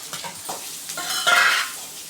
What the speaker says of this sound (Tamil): எல்லாத்தையும் மொத்தமாக நல்லா வதக்கிக்கலாம்.